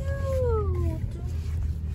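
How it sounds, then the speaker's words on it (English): A cat gives a single drawn-out meow that slides downward, close by, over a low outdoor rumble, followed by quieter background noise. "there's a cat right there"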